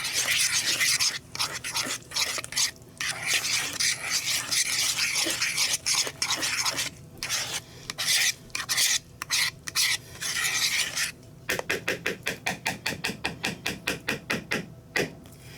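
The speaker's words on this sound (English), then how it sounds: "Now I'll get this spatula. Make sure that I've got this all mixed up down in the bottom and on the sides." A spatula stirs Southern-style cornbread batter of cornmeal and eggs in a bowl, making steady scraping and sloshing strokes that turn into a quicker, evenly spaced rhythm near the end.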